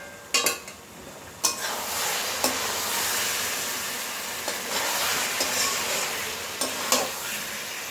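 Chicken stir-fried in a pan with a light sprinkle of sugar, a steady broad sizzle broken by several sharp scrapes and clanks of a utensil against the pan, close and loud with no voices.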